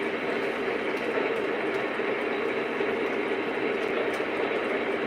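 Conrail model trains run on a layout with a steady, close rumble and faint rail clatter that holds evenly throughout, with no voices.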